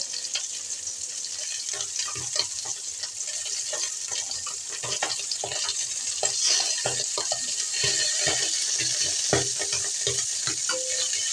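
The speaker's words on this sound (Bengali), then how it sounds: "তাই আমি একটু পুঁটি মাছগুলো একটু ভেজে নিচ্ছি, হালকা করে ভেজে নেব।" Steady oil sizzling as small puti fish fry lightly in a pan, with occasional stirring clicks and spatters, close and continuous.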